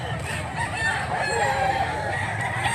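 A gray rooster crows at a rooster sale in Mantalungon, Cebu, one loud close crow stretching over the noisy, chattering background of the market.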